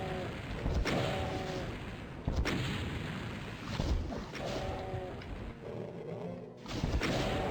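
Repeated booms and blasts from rockets and gunfire in the video game DOOM, loud thuds and rumbles every second or so, over continuous game sound.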